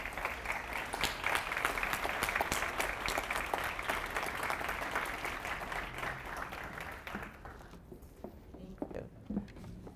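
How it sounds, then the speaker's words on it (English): An audience at a city and schools address applauds a presentation with sustained clapping that gradually thins out and fades toward the end, with some voices audible in the crowd. "Can we give Superintendent Delafleur another round of applause for a fantastic presentation?"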